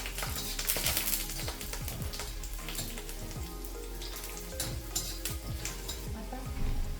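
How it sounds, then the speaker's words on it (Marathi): Curry leaves sizzle in hot oil in a pan, a dense crackling spatter close by with frequent quick stirring scrapes and a few clinks. "आता आपण त्यातच थोडा कढीपत्ता टाकणार,"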